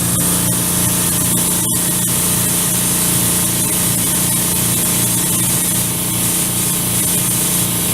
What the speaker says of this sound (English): Hope you can hear me over the compressor.